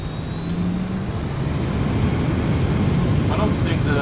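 An airliner taxis in a flight simulator with the Zibo mod, a steady low engine rumble and hum that stays loud and even, with a faint high whine above.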